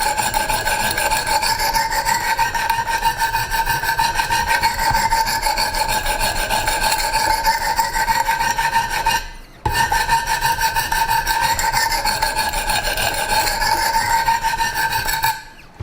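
A Strider SMF knife blade sharpened on a Wicked Edge Commercial guided sharpener, its stones rasping along the edge in steady continuous strokes, close and fairly loud, with one brief pause near the middle.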